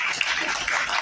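Applause from a lecture audience greets the speaker: a thick, steady wash of many people clapping at once, sustained for about a second without pause.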